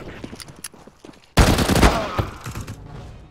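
A loud burst of gunfire from CS:GO breaks in suddenly after quieter game sounds, with a sharp opening crack followed by rapid overlapping shots that slowly trail off.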